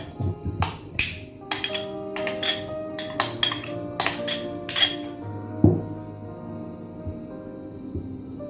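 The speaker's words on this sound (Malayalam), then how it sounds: "അപ്പൊ നമുക്ക് ഫസ്റ്റ് മാമ്പഴം ഈ പഞ്ചസാരയും കൂടി ഒന്ന് ബ്ലെൻഡ് ചെയ്തെടുക്കാം. ഞാൻ ജാറിലേക്ക് ഇടുവാണ് കേട്ടോ." Mango and sugar go into a blender jar, bringing a string of bright, ringing clinks and taps against the jar that come close and fairly loud, then thin out into a quieter, sparser tail.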